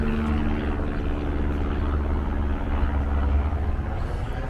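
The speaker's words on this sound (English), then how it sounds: "There's the airplane." Low continuous drone of an airplane flying overhead, a steady rumbling engine hum heard from the ground without talk.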